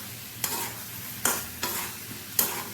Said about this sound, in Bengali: এখন ভেজে রাখা পটলগুলো দিয়ে আবারও মশলার সাথে খুব ভালো করে মিশিয়ে দিচ্ছি